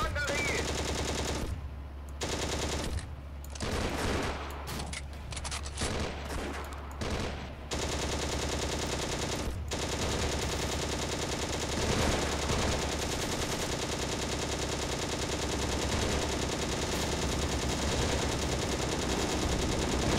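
Machine-gun fire rattles in the World War II tank game Steel Fury, with rapid bursts early on and then a dense, continuous roar of gunfire and battle noise, loud and close.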